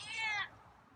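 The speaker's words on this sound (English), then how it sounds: "And now you got some meows." A feral cat gives a single close meow, rising then trailing off, with a faint low background hum beneath it.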